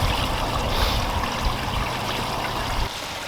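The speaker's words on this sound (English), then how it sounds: "I'll grab the gray tank handle and open the gray tank" RV gray tank water rushes out through a dump station hose, a loud, steady gushing flow close by that eases slightly near the end, with no talking.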